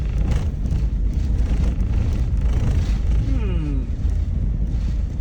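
Cars pass by on a nearby road, a steady broadband roar with wind buffeting, one vehicle sweeping past with a rising-then-falling whine partway through.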